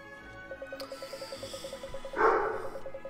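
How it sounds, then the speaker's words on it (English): A pet dog barks a few times indoors, faint and somewhat distant, beneath a steady pulsing game-music loop. "my dog is barking."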